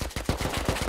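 Rapid gunshots from the video game Rust, a fast run of about seven loud, close, evenly spaced cracks in quick succession with no talk.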